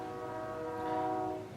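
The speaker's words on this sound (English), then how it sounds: "that's a nice train" A passing train sounds a loud, sustained horn, its steady chord swelling slightly before fading near the end, with no talk over it.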